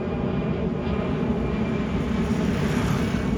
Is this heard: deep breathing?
no